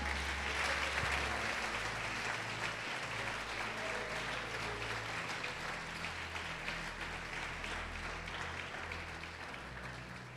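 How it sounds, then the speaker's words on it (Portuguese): A church congregation applauds during a sermon, a continuous wash of clapping that stays steady for about ten seconds and slowly tapers, with a low hum and scattered voices underneath. "Pode aplaudi-lo e glorificá-lo"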